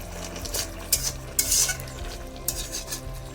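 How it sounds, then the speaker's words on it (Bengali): Vegetable curry with dried lote fish being stirred in a pot, a low simmering sizzle under a few sharp metallic scrapes and clinks of a spoon against the pot, close by and without voices. "মাঝে মাঝে ঢাকা খুলে এরকম নাড়তে হবে।"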